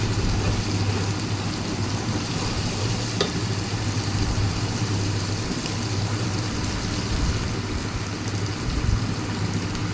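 Ginger and garlic paste frying in a pan for chicken pulao, a steady dense sizzle with continuous stirring, close and even throughout, no voices.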